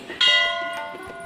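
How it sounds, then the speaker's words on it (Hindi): A large temple bell is struck once, ringing out close and loud with a bright metallic tone that slowly decays, with faint background voices and clatter around it. "कितना बड़ा घंटा है"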